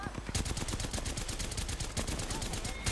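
Rapid automatic gunfire from the video game Apex Legends, a dense loud stream of shots lasting throughout with brief gaps, heard close and alone.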